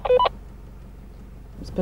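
A quick pair of phone keypad dialing tones sounds right at the start, followed by a quiet stretch of low background hum and a faint tone near the end, during a hot-air balloon flight over Chianti.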